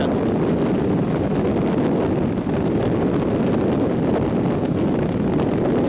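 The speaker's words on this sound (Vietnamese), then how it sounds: "gió càng lúc càng mạnh rồi" Strong wind roars without letup against the microphone, with the rumble of a fishing boat and water churning underneath at sea.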